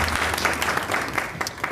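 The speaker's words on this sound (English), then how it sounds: "I would give her a round of applause" At a community board monthly meeting, an audience breaks into a short, close round of clapping, quick overlapping hand claps lasting under two seconds.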